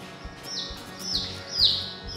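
Baby chicks chirp in a repeated series of high, sliding peeps, close and fairly loud over a low indoor background.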